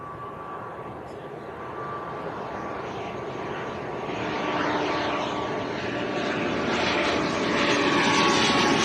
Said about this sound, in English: Aer Lingus from Belfast, ATR 72.